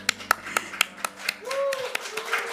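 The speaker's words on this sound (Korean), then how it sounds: "박수." A church congregation clapping hands during a birthday celebration, a series of sharp, evenly spaced claps in a steady rhythm, joined partway through by voices and a rising vocal tone under the beat.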